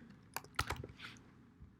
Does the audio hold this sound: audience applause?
no